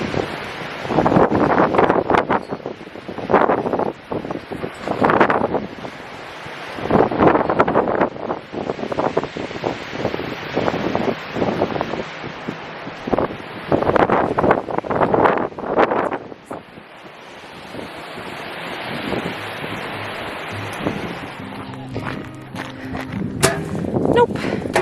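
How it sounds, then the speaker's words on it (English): Strong wind roars in heavy gusts during a nighttime windstorm, buffeting the microphone in repeated surges, while a voice speaks through part of it. "right now we are having quite the windstorm"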